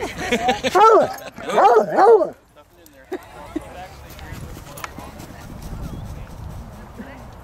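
Dogs at a dog park bark and yelp up close for a couple of seconds, then fade into a murmur of distant barking and outdoor bustle.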